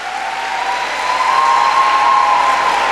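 Audience applause at a college inter-house qiraat, naat and declamation competition greeting a guest as she comes forward: steady, dense clapping from a hall crowd, building slightly over a few seconds with no talk over it.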